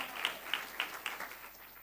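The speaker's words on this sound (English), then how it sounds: "a round of applause to Ms. Ditiro Mashiko as she gives her presentation" Sparse, faint clapping from an audience at a World Intellectual Property Day celebration ceremony, a handful of distinct claps in an uneven rhythm that fade out quickly.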